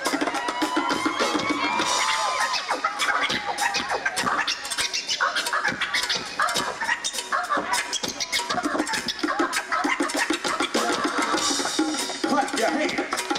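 Crowd at a 1999 Ozomatli party at Fairfax High cheering and clapping for Yamaguchi, a dense, loud, continuous roar of applause and shouts filling the space with no letup.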